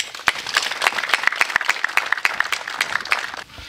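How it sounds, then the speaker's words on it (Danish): Audience clapping for construction workers at an outdoor opening of senior housing, a crowd of scattered, crisp claps close by for a few seconds before fading out. "Vil I klappe af dem?"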